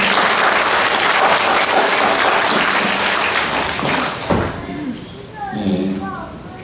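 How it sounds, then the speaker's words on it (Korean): A church congregation claps loudly together, a dense wash of hands that fades after about four seconds, giving way to voices and the start of singing. "박수로 하나님께 영광을 드리겠습니다."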